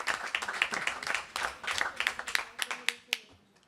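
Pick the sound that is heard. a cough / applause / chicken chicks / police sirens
applause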